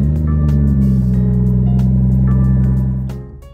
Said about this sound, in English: let's go ahead and start the car up